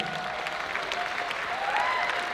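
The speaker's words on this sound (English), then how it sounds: "Give them a round of applause, everybody" A crowd applauds steadily as couples are brought onto a stage at a live show, the clapping moderately loud and dense for a couple of seconds.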